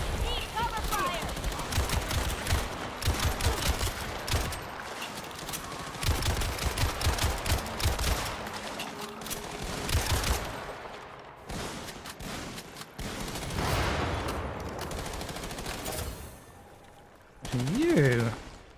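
Rapid gunfire crackles in bursts of automatic shots in the zombie shooter John Carpenter's Toxic Commando, loud and close, with short pauses between volleys and game effects mixed in.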